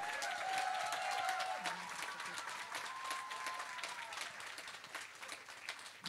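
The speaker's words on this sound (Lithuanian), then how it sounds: "Plojimai ir jam, jis girdi jūsų plojimus." A crowd at an outdoor town festival concert applauds a singer, dense clapping that is loudest at the start and slowly thins out, with a voice over a loudspeaker talking through it.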